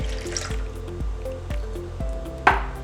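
Water poured from a measuring cup into gluten-free, dairy-free almond flour cake batter for mini cakes, giving a close, steady liquid pour with soft dripping and squishing, ending in a brief louder splash; no one speaks.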